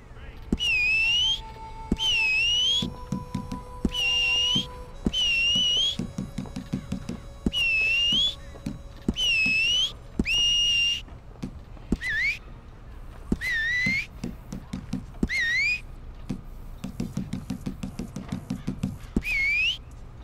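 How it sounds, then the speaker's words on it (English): Repeated two-tone whistles calling a horse in the video game Red Dead Redemption 2, loud rising and falling notes in short bursts with hoof-like thuds and game sounds between them. "Whistle."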